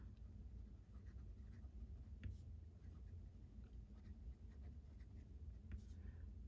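Franklin-Christoph Model 45 large fountain pen in Diamond Cast Blue writing on paper, a faint, continuous scratching of the nib with small ticks as strokes start and stop.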